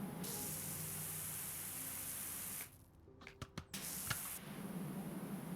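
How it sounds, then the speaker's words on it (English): Steady broadband hiss of a pressure washer jet spraying water in the PowerWash Simulator 2 game, continuous and loud, cutting out briefly midway with a few soft clicks before resuming. "Like, I could spray all the way over there."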